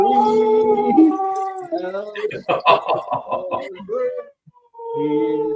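A dog howls in long, rising and falling tones, breaking into choppy yips in the middle, then resumes a steady howl after a brief pause.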